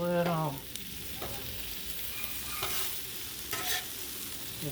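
Gnocchi being stirred on a Blackstone griddle: a steady close-up frying sizzle with scraping spatula strokes and a few clanks, all without talk.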